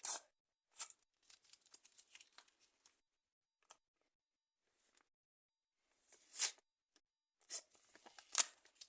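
A paper surprise packet is torn open with intermittent crisp tearing and crinkling in short bursts, separated by quiet gaps, close by and fairly faint.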